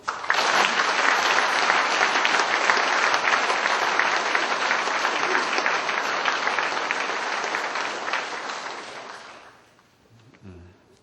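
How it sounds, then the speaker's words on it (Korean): Full, sustained applause from the audience at a provincial police chief's retirement ceremony, loud and even for about nine seconds before fading into quiet at the end. "우리 모두를 위해서 박수 한번 칩시다."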